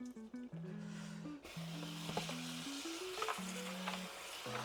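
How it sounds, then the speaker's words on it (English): Hominy being rinsed in water, heard as a continuous soft watery hiss and swish in a kitchen, with steady background music playing over it. "So we're going to go ahead and rinse our hominy."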